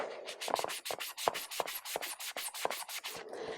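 Writing is rubbed off paper cash folders with an eraser in a steady run of quick, close scrubbing strokes, about ten rhythmic passes, with no talking.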